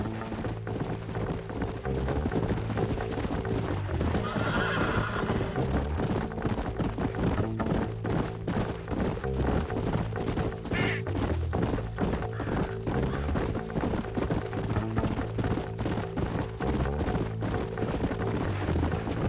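Horses gallop in the Red Dead Redemption western game, a steady fast clip-clop of hooves running close and loud throughout, with a brief whinny partway through.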